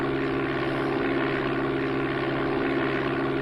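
Aircraft engine from the Amiga Flight Simulator II game drones steadily with a loud, continuous propeller hum as the throttle is brought up, smooth and unbroken, with no voices.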